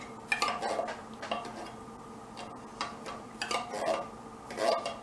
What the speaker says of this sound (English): Get a little spoon here, so I can drive you guys insane with scraping my pan